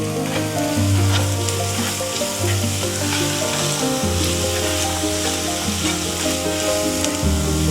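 Diced potato and onion fry in a pan for a chicken omelette, giving a loud, continuous sizzle with occasional stirring scrapes. No one speaks.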